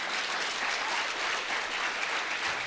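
Sustained, dense applause from a seated audience at a TED-style talk, even and continuous throughout with no pauses.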